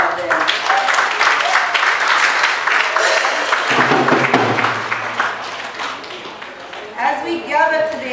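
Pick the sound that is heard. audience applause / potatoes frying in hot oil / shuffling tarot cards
audience applause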